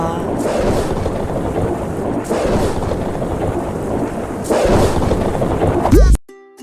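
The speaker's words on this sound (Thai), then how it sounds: "เสียงฟ้าผ่า" Thunder rumbles loudly through heavy rain, with deep rolling swells that build again midway and later, then cut off abruptly.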